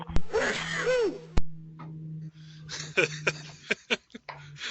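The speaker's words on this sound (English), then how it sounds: "I don't know if that came across properly, but it was a guy sneezing." A man lets out a loud, drawn-out sneeze, followed by sharp clicks and short breathy noises.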